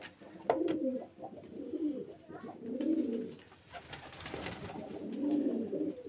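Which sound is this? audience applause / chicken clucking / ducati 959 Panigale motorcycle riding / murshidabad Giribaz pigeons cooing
murshidabad Giribaz pigeons cooing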